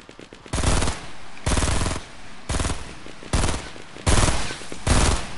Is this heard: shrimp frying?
no